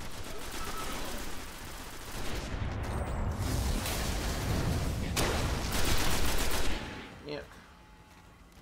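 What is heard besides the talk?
gunfire in the video game Destiny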